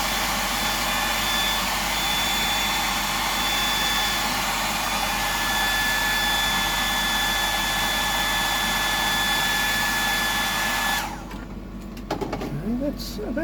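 A hair dryer blows a steady, loud airflow hiss with a faint whine while drying a freshly painted 100mm Sammy fishing lure, running continuously for about eleven seconds before cutting off abruptly, followed by brief handling noises.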